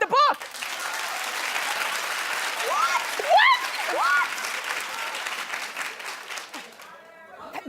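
A studio audience claps steadily for several seconds, a broad sustained wash of applause with voices speaking over it near the middle and a short spoken question at the end.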